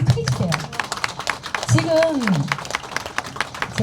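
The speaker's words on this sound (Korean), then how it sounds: "박수를 크게 주세요." Seminar audience clapping in a burst of dense, fast claps around someone speaking over them, the applause thinning out toward the end.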